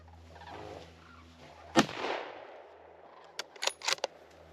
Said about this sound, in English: Shoot him again. Shoot him again.